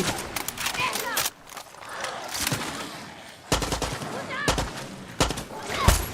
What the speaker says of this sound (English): Someone is shooting. That'll be me.